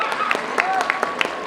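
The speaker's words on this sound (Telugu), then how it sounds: "ఇప్పుడు మనకు వీళ్ళ పర్ఫార్మెన్స్ ఒక్కసారి అందరూ గట్టిగా చప్పట్లు" Audience clapping after a veena music performance at a music school: sparse, fairly regular claps close by, heard under a voice speaking.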